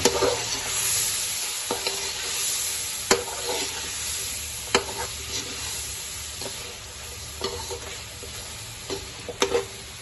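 Chicken biryani masala with coriander stirred in a pot, a steady loud sizzle layered with repeated scraping and tapping of a spoon against metal, close and uninterrupted by voices.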